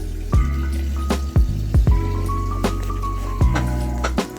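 A washing machine filling with water: a steady low rush of inflow broken by several sharp drips and splashy plops, with a faint tonal whine running through it.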